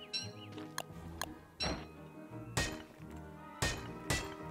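Hammer strikes while mining in Don't Starve Together, several sharp thwacks and clinks at irregular intervals over a background of game music.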